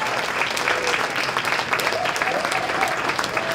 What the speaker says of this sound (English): give them a round of applause because they deserve it.